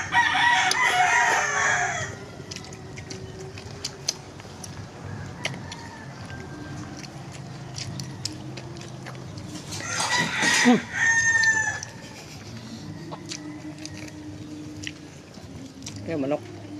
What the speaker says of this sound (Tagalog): Yan, manok.